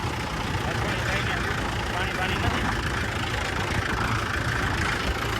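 A tractor engine idles with a steady, continuous rumble nearby while people talk over it.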